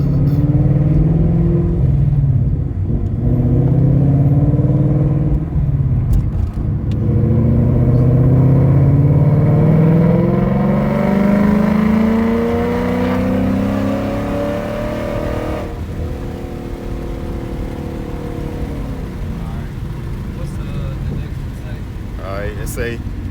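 A friend's E85-tuned Ford Mustang pulls hard through third gear at full throttle, its engine note climbing steadily in pitch as it revs from low to high, loud and close, with a brief shift-like dip partway through.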